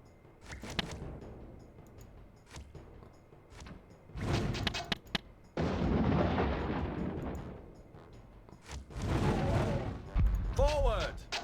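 Gunfire from a Warhammer fantasy video game battle, a series of sharp bursts and blasts in loud clusters with a dense roar of battle, while someone talks over parts of it.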